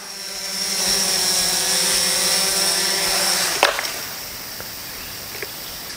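FPV quadcopter drone with a new flight controller and FPV camera, its propellers whining in a steady loud buzz with harmonic tones that cut off abruptly on landing, followed by a few faint clicks and knocks.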